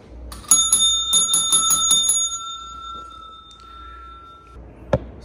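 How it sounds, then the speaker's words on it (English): A small bell dinged by hand at a public assistance counter, several quick bright rings in a cluster, then a long fading ring and one last sharp ding near the end. "see, I'm dinging the bell."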